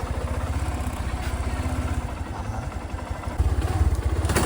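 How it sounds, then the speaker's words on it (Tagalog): A motorcycle engine idles while warming up before a ride, a loud, close, steady rapid putter with a regular pulsing beat and some mechanical clatter, a slight surge near the end and no talking. "Pinapainit lang ang motor."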